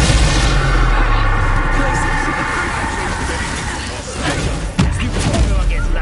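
In Hogwarts Legacy, a Bombarda spell detonates as a single sharp blast near the end of a loud stretch of game combat audio, with voices talking over it.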